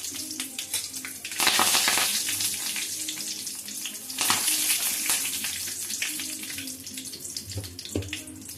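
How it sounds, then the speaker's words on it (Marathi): Curry leaves dropped into hot oil with crackling cumin seeds, sizzling loudly in bursts while preparing a spicy kothimbir vadi rassa curry, with steady spattering frying continuing throughout. "जीरा चटक चुका है, तो इसमें डालो कड़ी पत्ता घालायचा"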